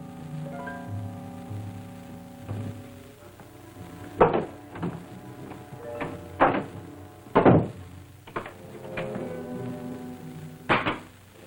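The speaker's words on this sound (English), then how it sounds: "Open that closet door." A closet door is opened in a 1937 serial drama, heard as a series of sharp wooden thunks and knocks spaced irregularly over quiet background tones, with no talk.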